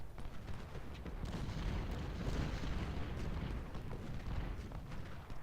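Artillery guns fire in a Civil War battle at Malvern Hill in Ultimate General: Civil War, a continuous rumbling barrage of overlapping booms and crackling volleys, loud and dense with no gaps and no talking.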